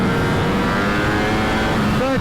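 A Ducati V4S motorcycle roars loudly on a race track, its engine note climbing steadily as it accelerates, close and continuous with no talk.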